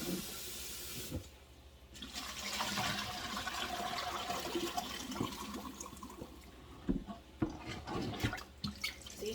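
Water from diced potatoes drains through a dollar-store strainer into a kitchen sink, a steady rushing and gurgling pour that swells and then thins into scattered splashes and drips, close and fairly quiet.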